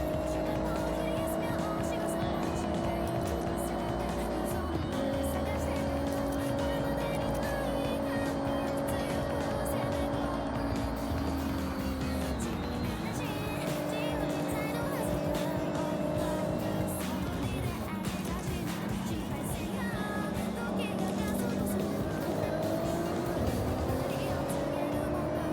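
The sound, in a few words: car engine driving in Forza racing video game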